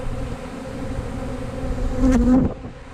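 Honey bees buzz steadily close by after honey extraction, a low droning hum, with one louder bee swelling past near the end before fading.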